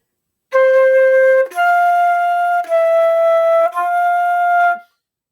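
A beginning band's opening exercise measure played as four sustained, steady wind-instrument notes, each held about a second with brief breaks between, loud and clear with no talk.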